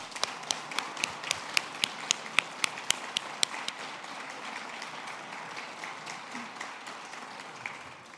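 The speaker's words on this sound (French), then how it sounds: "Je pense qu'on peut applaudir." Audience applause at a commemoration ceremony launching the Année Lévesque in Québec: a steady wash of clapping from a large crowd, with sharper individual claps standing out early on, then settling into an even, sustained roar of hands.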